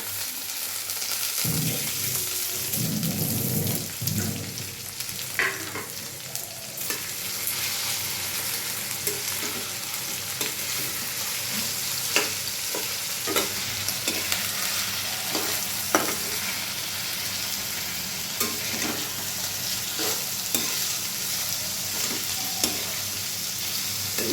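Vegetables with chopped onion, garlic and ginger stir-frying for mixed chowmein, a steady close sizzle with repeated clinks and scrapes of the spatula against the pan, no talking.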